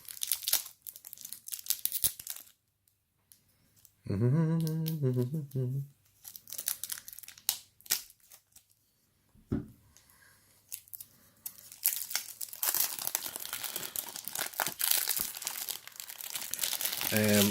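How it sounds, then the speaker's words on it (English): Packaging around a tarot card deck is crinkled and torn open in bursts of close crackling plastic and paper, with pauses and a brief stretch of a person talking. "Now let's open these up without destroying the cards."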